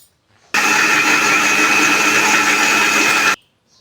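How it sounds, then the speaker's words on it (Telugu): A mixer grinder whirs loudly at high speed for about three seconds grinding a wet masala of onions and water, starting and stopping abruptly, with no other sounds. "ఇప్పుడు మిక్సీ పట్టేసాను"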